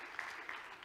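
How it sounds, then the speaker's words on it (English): Church audience claps together in a short, even burst of applause, a soft, diffuse patter with a couple of sharper claps standing out, heard from a middle distance. "Give yourself a round of applause."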